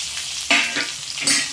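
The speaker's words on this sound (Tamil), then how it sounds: "இப்போ மீதி பாதி வெண்டைக்காவையும் நம்ம இப்போ சேர்த்து வதக்கி எடுத்துக்கலாம்" Okra (ladies' finger) sautés in a pan for a hotel-style tamarind curry, with a steady sizzle and two quick scraping stirs of a spatula, close and fairly loud in a brief moment without voices.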